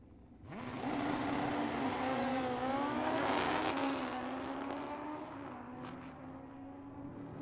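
Kawasaki motorcycles, including a 1980 model and a 1428 cc bike, launch side by side at a Tucson dragway, a loud engine howl rising sharply in pitch and then holding a steady roar as they pull away.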